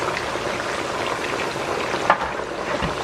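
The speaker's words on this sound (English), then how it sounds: "I'm just going to let it fry." Food deep frying in oil for jollof rice, a steady dense sizzle and crackle running throughout at close range, with a brief clink partway through.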